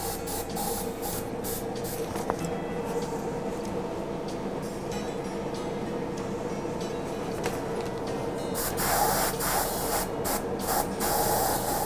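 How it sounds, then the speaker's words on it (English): An airbrush spraying paint onto a reproduction largemouth bass fish mount, a steady close hiss running continuously with slight rises in intensity toward the end. "so that I can darken the edge a little bit without getting the overspray onto where I've painted the side of the fish"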